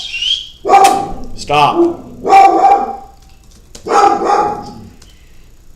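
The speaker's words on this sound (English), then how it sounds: "my dog is not happy with a dog that is outside, apparently" An indoor dog barks loudly and up close at another dog outside, giving a few sharp barks and yips in separate bursts, with a person's voice cutting in briefly.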